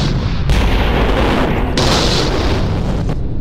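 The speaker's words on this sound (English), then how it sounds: "at the height of the hiss, a huge explosion" A huge explosion on a burning offshore oil rig, a loud sustained blast roar with heavy low rumble and crackling bursts throughout, no speech.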